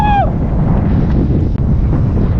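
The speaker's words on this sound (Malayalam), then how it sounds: "നല്ല തണുത്ത കാറ്റ്" Cold wind gusting across an open hilltop at Kaalimala, a steady broadband roar buffeting the microphone, loud and continuous throughout with a brief faint tone at the start.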